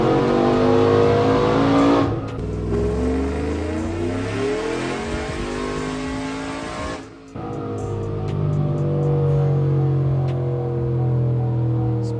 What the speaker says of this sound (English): we're gonna go ahead on and do a dyno pull, and let's do a rip.